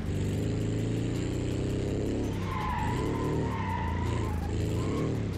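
A VW Beetle in the BeamNG.drive racing game skids with wavering tire squeals over a loud, constant engine drone that runs through the whole stretch.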